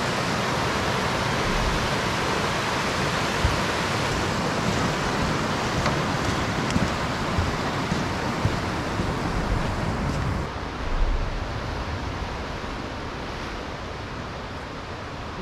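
A brook pours into the ocean surf, giving a loud, unbroken broadband rush of water that holds steady throughout, with no voices heard.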